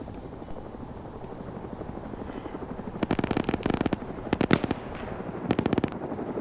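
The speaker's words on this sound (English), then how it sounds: "Gun run from the Huey coming down." Huey helicopter gun run in a video game battle: a steady rotor drone carries throughout, broken by several bursts of rapid automatic gunfire in the second half, loud and close.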